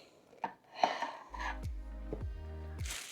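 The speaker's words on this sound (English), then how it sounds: "So I'm going to slice these up real quick." A bread knife cuts hard rolls in half with a few crisp crunching strokes and knocks against the board, close and fairly quiet, with a low hum beneath.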